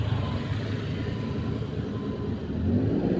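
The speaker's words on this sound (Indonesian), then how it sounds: "Angkot jalur 3, angkutan kota di Kota Magelang seperti ini" An angkot minibus, route 3 public transport in Kota Magelang's shopping center district, rumbles past with a low steady engine drone, swelling slightly louder toward the end amid street traffic.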